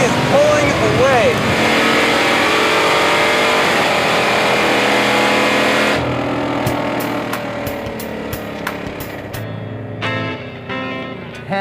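A 1968 Dodge Charger with a 707-horsepower Hellcat engine pulls away while racing, its engine revving hard and loud at first, then fading and breaking into sharp crackles, with voices talking over it.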